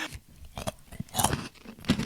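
Crunchy honeycomb chocolate being chewed up close, with several crisp, irregular crunches and bites spread over about two seconds, some louder bursts standing out against a quiet background.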